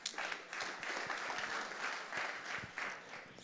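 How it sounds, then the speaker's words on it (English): Audience applause at a tech startup summit pitch session, a steady wash of clapping from a crowd that holds at a moderate level for a few seconds. "Let's give him a round of applause."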